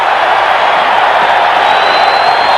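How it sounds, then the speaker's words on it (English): A boxing crowd roars in response to a lively exchange in the ring, a steady, dense wash of cheering and noise that holds without a break. "they mix it up, a lively exchange, and the crowd responds"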